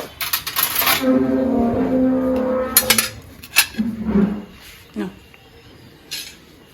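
Spoons and a fork clink against dishes while rice and food are served at a home meal, with bright scattered metallic clinks and a few sharper clatters, mixed with nearby voices.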